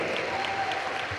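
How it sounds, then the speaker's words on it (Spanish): Church congregation clapping during a worship service, a steady dense wash of applause heard at a moderate distance with no clear pauses, faint voices mixed in underneath. "Dele ese aplauso al Señor"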